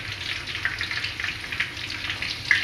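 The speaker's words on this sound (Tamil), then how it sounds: "இப்போ இஞ்சி பூண்டு நல்லா வெந்துக்கிட்டு இருக்கு" Ginger and white garlic cloves fry in about three spoons of hot oil in a pan for homemade special fried rice, giving a steady, close, crackling sizzle with small pops and no talking.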